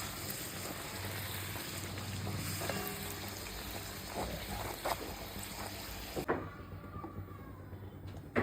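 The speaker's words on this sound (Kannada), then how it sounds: "ಸೊ ಫ್ರೈ ಮಾಡುವಾಗ ಸ್ವಲ್ಪ ಚಲೋ ನೋಡಿ ಮಾಡಿ ಎಣ್ಣೆಗೆ ಬಿಡ್ರಿ" Puris deep-frying in hot oil for North Karnataka–style sagu puri give off a steady, dense sizzling hiss that runs throughout, with a few soft clunks near the end and no talking.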